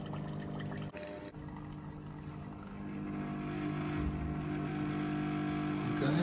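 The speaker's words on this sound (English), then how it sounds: "you can hear it's changed sound and it's just pumping out the last little bit of detergent" A chemical pump churns steadily, its mechanical drone mixing with gurgling, sputtering detergent as it pumps out the last of the liquid and the sound shifts and grows slightly rougher, no voices present.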